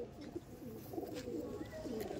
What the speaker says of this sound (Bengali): এইটা দেখুন নীলদমা পায়রা